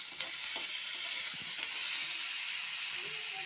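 Potatoes stir-fried in oil with salt and turmeric sizzle in a continuous, close hiss, with faint scrapes from stirring now and then.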